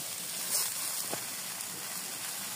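Malabar spinach and mixed vegetables simmering in a covered pan, giving a steady soft hiss and faint bubbling with no pauses.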